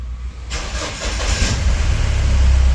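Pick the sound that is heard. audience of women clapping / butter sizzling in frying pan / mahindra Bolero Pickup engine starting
mahindra Bolero Pickup engine starting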